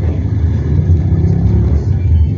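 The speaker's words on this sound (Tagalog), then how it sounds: "Walang makakatalo sa" Steady low rumble of car engines in Metro Manila traffic, heard from inside a vehicle, continuous and fairly loud with no talking.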